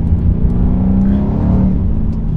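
A BMW M5 CS drives along at speed, its engine holding a loud, steady low drone with road noise from inside the car.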